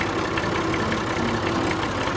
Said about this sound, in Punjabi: ਦੇਖੋ ਬਾਈ ਨੇ ਟਰੈਕਟਰ ਹੀ ਫੜਾਤਾ ਆਪਦਾ ਮੈਨੂੰ ਕਹਿੰਦਾ ਤੂੰ ਚਲਾ